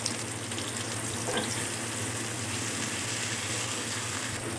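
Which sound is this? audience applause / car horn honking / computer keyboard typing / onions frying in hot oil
onions frying in hot oil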